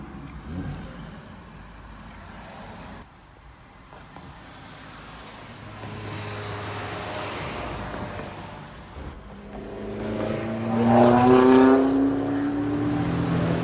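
A Lamborghini Huracan Spider supercar drives past on a street, its engine note rising and building into a loud revving pass near the end, over steady background traffic.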